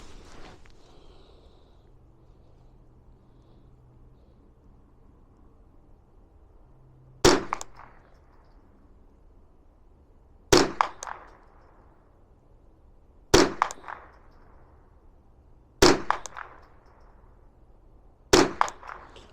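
Sharp, loud shots from a rifle firing budget subsonic ammunition ring out five times at irregular intervals of roughly three seconds, each with a short decaying tail over a quiet background.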